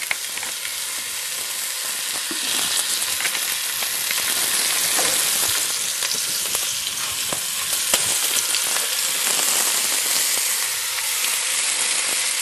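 Osso buco fries in olive oil in a cast-iron casserole pot, a dense, loud, continuous sizzle and crackle with faint stirring scrapes underneath, close and unbroken, no voices.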